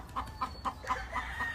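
An angry hen, a Sweater Roundhead Albany gamefowl, clucks in a steady series of about six short, sharp calls at regular intervals, close and fairly quiet with no talk.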